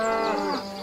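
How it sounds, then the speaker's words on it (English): A single drawn-out moo from a cow, loud and close, with rich harmonic tone that slides and fades near the end. "Take those big fat cows out of my garden!"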